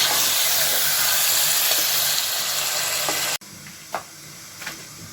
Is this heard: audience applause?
no